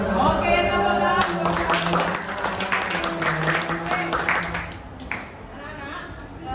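A classroom of children applauds in a lively, scattered round of clapping for a few seconds, mixed with overlapping children's voices, before the clapping thins out.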